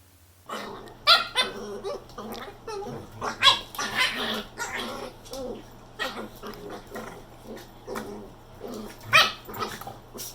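A playful puppy named Taz yips, barks and growls in busy, irregular bursts while romping with another dog, close and lively with a low hum beneath.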